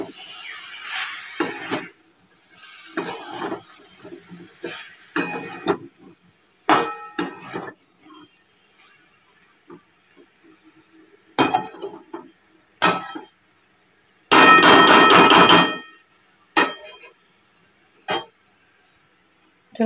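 A spatula scrapes and clinks against a kadai (wok) while food is stirred in heating oil, with irregular metallic knocks and one louder, longer scraping burst near the end.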